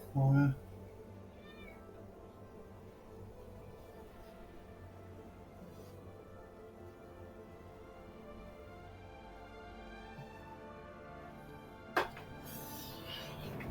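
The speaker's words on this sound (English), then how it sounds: "Oh, now my cat's going crazy at me." A pet cat meows loudly once, close to the microphone, over the low hum of a space mining game, followed much later by a short sharp sound; no speech.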